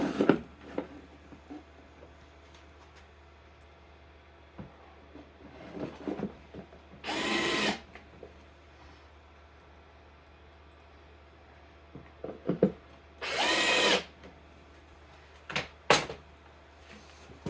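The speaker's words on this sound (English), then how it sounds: "I have these 3/4 inch screws. And I'm going to put one here, and I'm going to fasten it here." Power drill driving 3/4 inch screws into wood: two loud, close whirring bursts of about a second each, separated by quiet handling clicks and knocks, no speech.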